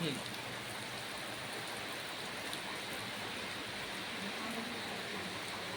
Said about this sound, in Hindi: बारिश बुन्नीत बा।